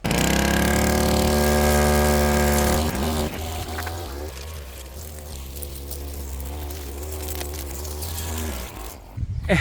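A brush cutter trims between saplings at low RPM, its small engine holding a steady idle-like hum that shifts pitch as the cutting starts, and continues close and fairly loud with faint voices.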